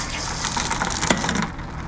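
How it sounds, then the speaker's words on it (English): Water gushes steadily from the pressure relief valve of a Suburban SW6DE RV water heater tank as the pressure is let out, a close, continuous hissing rush that ends abruptly. "that relieves the water pressure."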